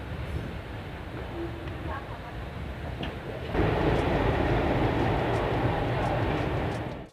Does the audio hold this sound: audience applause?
no